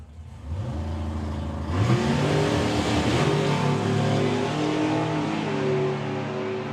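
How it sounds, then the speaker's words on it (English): Super Comp drag racing cars launch down the strip at the Springspeed Nationals, their engines bursting into a loud, sustained roar that climbs in pitch as they accelerate away, with no talk over it. "Warren Watts, Leah Kellett, this for the event win in Super Comp"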